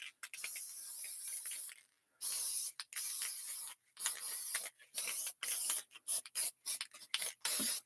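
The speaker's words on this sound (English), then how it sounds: "I have a tiny little spray can" A tiny aerosol spray can is used to fix colored pencil and pan pastel work on a handmade card, giving repeated close, loud hissing bursts, first long and then short and rapid, with no talking.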